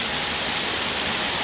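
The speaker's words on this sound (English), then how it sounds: "Another pretty epic little waterfall in itself." A waterfall of several streams pours off a rock face at Caboolture River Falls in Queensland, giving a steady broadband rushing hiss that stays level throughout, with no voices.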